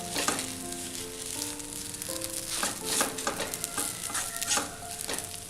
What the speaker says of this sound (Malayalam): ഇത് നന്നായിട്ട് ആ തക്കാളി ഒന്ന് ഉടച്ച് ഇതിലേക്ക് ചേർക്കണം